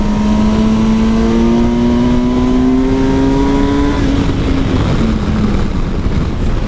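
A Kawasaki Versys 1000 SE GT motorcycle engine drones loudly and steadily while cornering, its pitch rising gradually before easing off, mixed with a constant rush of wind noise.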